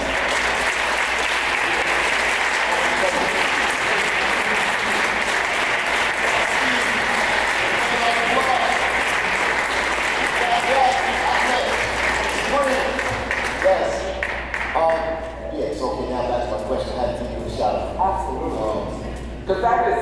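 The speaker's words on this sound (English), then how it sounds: "if they can stand up, we can give them a round of applause" An audience gives sustained applause for returning citizens, a dense, steady wash of clapping that thins toward the end as voices come through over it.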